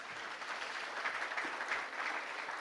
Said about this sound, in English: Yeah, give it a clap.